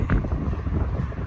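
Wind buffets the microphone in a steady low rumble throughout, with gusty fluctuations and no voices.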